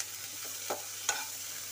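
Onions browning in a pan with salt, turmeric, cumin powder and chili powder give a steady close sizzle, broken by two quick scrapes of a stirring spoon.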